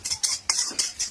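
A metal ladle bangs against a pan while egg fried rice is cooked, giving about five sharp, loud clangs in a quick, even rhythm, close up and with no talking.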